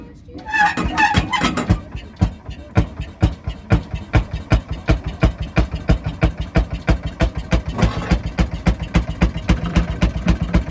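An antique Fairmont M19 railroad speeder engine, running cold at a tractor show, idles with a steady, even chugging of evenly spaced loud pulses, close and sustained, with people talking briefly near the start.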